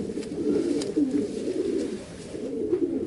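Pigeons, including a white-beaked male, coo in low, throaty, rolling calls, continuous and fairly close, with a soft murmur of other birds behind.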